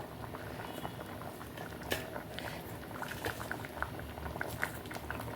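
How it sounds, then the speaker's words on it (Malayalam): A pot of tamarind curry with curry leaves bubbles steadily at a low simmer, with soft popping and liquid burbling throughout, fairly close and unaccompanied by voices. "ഇതാ നന്നായിട്ട് തിള വന്നു"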